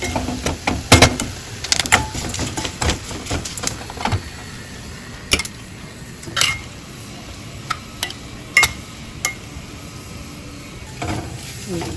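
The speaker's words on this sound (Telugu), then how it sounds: "ఇందులో తాలింపు వేసేసుకోవడమే." Tempering is added to a curry of telagapindi and drumstick leaves, giving a faint sizzle under repeated sharp clanks and scrapes of a spoon against a pan, close by with no talking.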